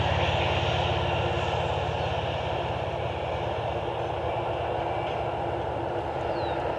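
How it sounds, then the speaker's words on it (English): A Delta airliner bound for Atlanta flies past Cleveland Hopkins airport on a smoky day, giving a loud, steady jet roar with a faint whine that stays constant throughout and carries no voices. "Delta Flight 880 heading to Atlanta."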